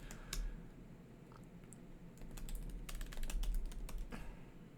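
Someone types on a computer keyboard, a run of quiet, irregular key clicks that grow denser toward the end over a low background hum.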